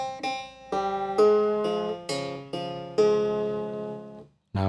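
A krar, the Ethiopian lyre, plucks a plain melodic phrase of about seven notes without ornamentation, each string ringing bright and close before decaying, ending in a brief pause and a final pluck.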